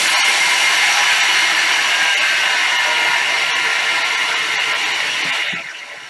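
A Thermomix runs at speed 8, mixing falafel cracker dough in a loud, steady, close whirring roar that holds nearly throughout before tapering off at the end.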